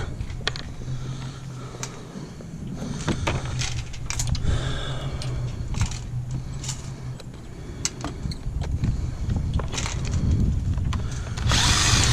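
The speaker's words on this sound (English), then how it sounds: "So we go back to drilling." A power drill whirs in short bursts against wood during a boat gooseneck repair at a marina, with clicks and rattles between runs, close by over a low background hum.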